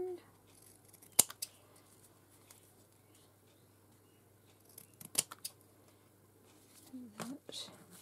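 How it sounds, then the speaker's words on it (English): Scissors snip through fabric in a few sharp, isolated cuts separated by quiet pauses, close and soft, with faint rustling of the material between cuts. "Cut a bit off the top and the bottom of that one."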